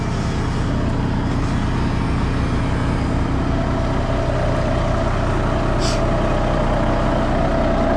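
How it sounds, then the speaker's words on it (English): A Peterbilt truck engine warms up while parked in a mud hole, a steady loud diesel idle rumbling close by without a break. "I got the peak warming up so I can pull up out this daggone mud hole"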